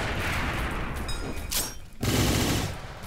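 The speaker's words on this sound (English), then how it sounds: "It tried to Gatling gun me." A Gatling gun attack in the game Deepwoken, a dense, loud rapid-fire burst with bright crackling impacts, broken by a brief lull before the noisy barrage resumes.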